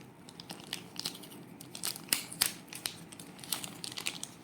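Plastic packaging crinkles and tears as an IR remote for an Atomberg Efficio Alpha BLDC ceiling fan is unboxed, with soft, irregular rustles and a few sharper crackles, close and fairly quiet.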